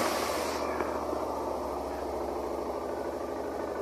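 BMW GS 650 single-cylinder motorcycle engine idling steadily at close range, a low even rumble with slight vibration, no revving and no voices.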